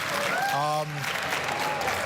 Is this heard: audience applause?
yes